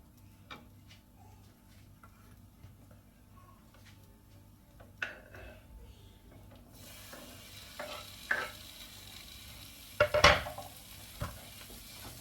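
Mushroom masala with tomatoes just added frying in a pan, a faint low sizzle with occasional spoon taps and stirring scrapes, growing to a louder clatter of stirring near the end, with no talk.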